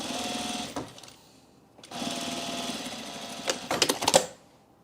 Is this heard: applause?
no